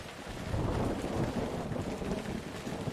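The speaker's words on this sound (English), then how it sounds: "It's raining." Rain and rolling thunder in the emergency-response video game Emergency 4, a continuous low rumble under a steady hiss of rainfall and gusty wind, with no one speaking.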